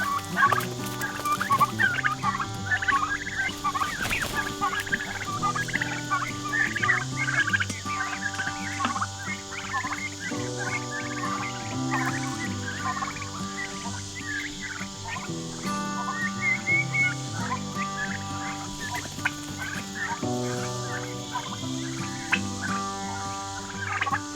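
Turkeys gobble repeatedly in bursts throughout, a busy flock close by with overlapping calls and no talking.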